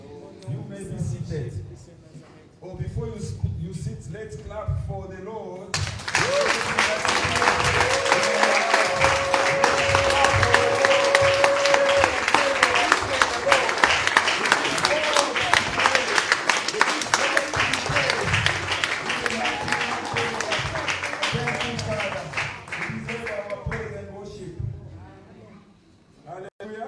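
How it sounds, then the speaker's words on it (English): Harvest Church congregation claps for the Lord during a service, dense sustained clapping swelling in after scattered voices and fading out near the end, with cheers and talk mixed in. "let's clap for the Lord"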